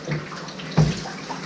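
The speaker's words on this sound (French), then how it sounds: "Je pense que je vais remplir que ce jerrycan-là." Water rushes into a jerrycan in a short, steady splashing burst with a slight surge partway through, close by and without speech.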